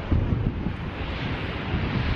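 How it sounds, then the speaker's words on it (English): Strong wind by the sea on the Brighton seafront, buffeting the microphone in a steady loud roar with low rumbling gusts. "it's just really windy, but it's not cold."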